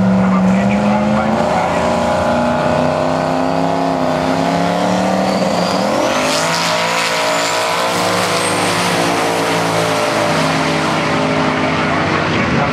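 A drag-racing Mustang roars down the strip at about 160 mph, a loud, close engine howl that climbs and shifts in pitch over several seconds, with strong high-end noise from the run.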